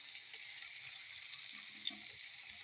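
Onion rings and tomatoes frying in a pan for a Ramadan home meal, a soft steady hiss of sizzling oil that is faint and continuous, with a few light clinks.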